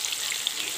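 American fish sizzles and fries in a home kitchen pan, a steady bright crackle with small pops, close and alone.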